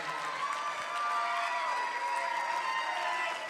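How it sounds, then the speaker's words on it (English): Crowd applause and cheering at an election rally, a continuous, even wash of clapping and voices throughout, moderately loud with no single speaker standing out. "can we give my wife an amazing round of applause"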